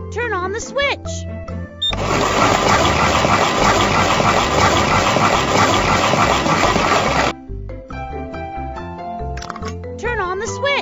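A concrete mixer machine runs in a children's engineering truck video game, a loud dense churning rumble that starts abruptly, holds steady for several seconds and cuts off, framed by cheerful music and chirpy effects.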